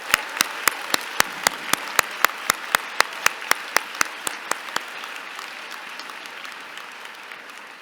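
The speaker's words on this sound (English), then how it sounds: "Let's give a final round of applause for our 2025 graduates." An auditorium audience applauds the 2025 graduates at the Branksome Hall graduation ceremony, with sharp rhythmic clapping at first, then a softer sustained wash of applause that gradually fades.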